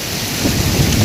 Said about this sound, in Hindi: तूफानी बारिश